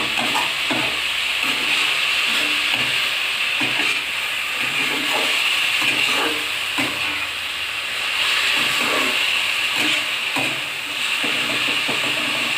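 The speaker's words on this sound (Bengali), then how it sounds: "এবার দিয়ে পুরো শাকটা নেড়ে চেড়ে মিশিয়ে নেব, নিয়ে ভাজতে থাকবো।" Red amaranth leaves frying in a pan, a steady loud sizzling hiss with repeated soft scraping as the greens are stirred.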